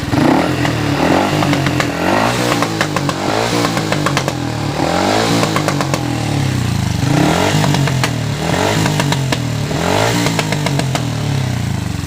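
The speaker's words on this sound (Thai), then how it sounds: "มดนี้ใส่แบ็คไฟด้วยนะครับแต่ว่ายิงแบบลั่นๆ นะครับ ลองบิดสักหน่อยนึงครับ" A Honda Dream Super Cup set up as an open race bike with a backfire kit is revved hard in repeated rising bursts. Sharp crackling pops from the exhaust come through close and loud, with no talking.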